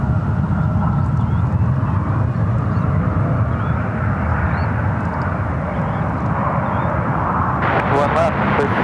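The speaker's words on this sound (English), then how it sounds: "Swiss, looks like it's heading to runway 28 right for arrival" A Swiss airliner arriving on runway 28 right at San Francisco International Airport makes a steady, broad jet rumble with a constant drone. Voices talk over it throughout.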